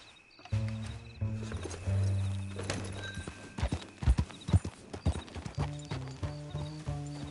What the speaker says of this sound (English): Meet the horse.